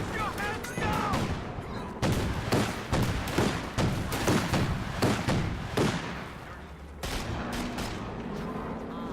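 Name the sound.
gunfire in a strategy video game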